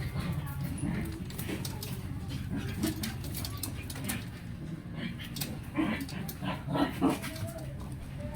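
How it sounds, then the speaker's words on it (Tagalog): Two dogs bark and whine in the background of a backyard pigeon loft, scattered short barks and yelps mixed with faint fluttering, while someone talks nearby. "maingay pa nga yung dalawang aso namin dun sa likod ko"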